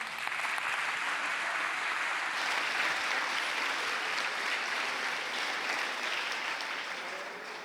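Sustained applause from a large audience, dense and loud, clapping continuously without a break.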